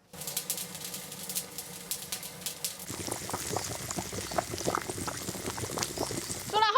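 Pork knuckle stews in a seasoned sauce of salt, dark soy, oyster sauce and pepper in a covered pot, giving a steady close bubbling boil that grows busier and denser partway through, with a few louder pops near the end.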